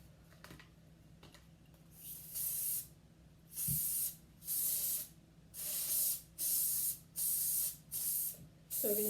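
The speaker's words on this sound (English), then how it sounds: "spray it all around with our spray adhesive" Seven short, even bursts of spray adhesive hiss from an aerosol can in a steady rhythm, with quiet pauses between each burst.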